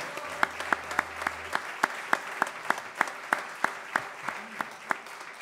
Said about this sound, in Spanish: ya que estamos de aplausos, pido un aplauso para Seba Cerellanes.